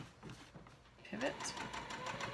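A home sewing machine stitches the lining of a wristlet clutch with a soft, continuous hum while a person talks over it.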